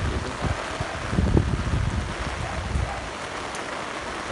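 Heavy rain from Typhoon Ulysses falls steadily during flooding in Parañaque, a dense hiss mixed with gusting wind noise on the microphone and low splashing bursts.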